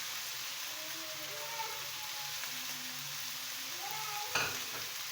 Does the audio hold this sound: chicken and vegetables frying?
yes